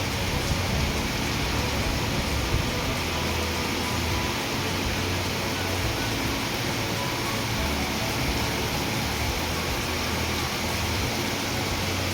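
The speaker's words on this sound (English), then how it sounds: "heavy rain." Heavy rain falling on a cold day, a dense, steady hiss of downpour heard close and evenly loud throughout with no talking.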